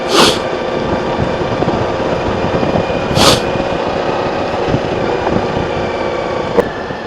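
A motor scooter rides over gravel, its engine droning steadily and close, with crunching, bumpy tire and road noise and a couple of brief wind gusts.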